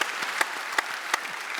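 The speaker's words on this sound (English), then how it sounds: "Give him a round of applause because he." Steady applause from an audience at a talk on RIT's transformation, a dense wash of many hands with a few louder individual claps standing out, moderately close and without speech.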